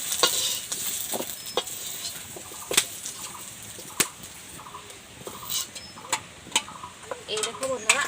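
Potatoes frying lightly in a pan with sharp stirring clatters and scrapes over a steady hiss, recorded close, with the sounds in irregular bursts.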